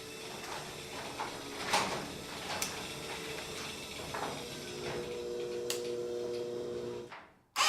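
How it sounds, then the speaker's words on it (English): A garage door rumbles and rattles steadily open for several seconds, a continuous mechanical grind with occasional clunks, close by and with no voices. "So I'm going to open the garage door."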